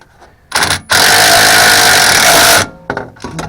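A powered ratchet tightens sway bar bushing bolts on a vehicle, with a short burst, then a loud sustained whir of nearly two seconds, followed by a few brief trailing bursts close to the microphone.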